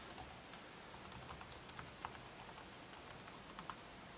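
Keys on an HP Pavilion dv6 laptop keyboard being pressed one after another, soft irregular clicks and taps close by with a quiet background and no talking.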